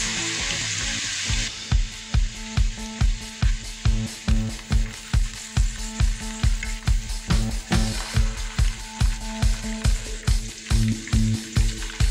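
Chicken pieces sizzle loudly in a pan while a utensil scrapes and stirs in a steady, regular rhythm, close by.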